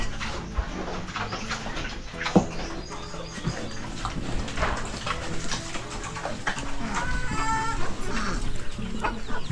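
Large chickens on a farm with a papaya harvest cluck and chirp in a busy, overlapping chorus, close and steady with scattered peeps over a constant background.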